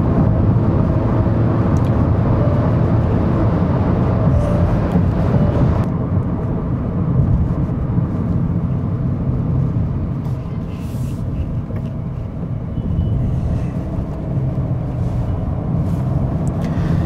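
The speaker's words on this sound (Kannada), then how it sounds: "ಫುಲ್ ಥ್ರಾಟಲ್ ಪ್ರೆಸ್ ಮಾಡ್ತಾ ಇದ್ದೀನಿ, ಈಸಿಯಾಗಿ 100 ಕ್ಯಾಚ್ ಆಗುತ್ತೆ." Hyundai Venue under full-throttle acceleration, a steady loud engine and road drone from inside the cabin that holds throughout with little change.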